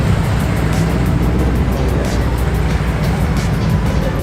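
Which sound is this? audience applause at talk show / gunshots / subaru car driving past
subaru car driving past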